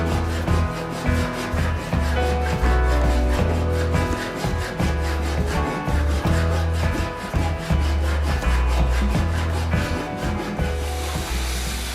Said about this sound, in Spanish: los sobrantes los vamos a recortar con la sierra